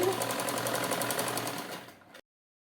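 Sewing machine running a side seam on a suit, a close steady mechanical whir with fast regular stitching pulses for about two seconds before stopping abruptly.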